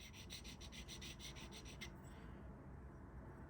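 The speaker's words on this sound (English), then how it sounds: "these are Spyderco files here. And I'm just going to go ahead and I'm going to break that edge." Spyderco files rasp against the edge of an Ochs Worx Osprey EDX pocketknife, a close, rapid series of short scraping strokes in steady rhythm for about two seconds, then fading into a softer continuous rub.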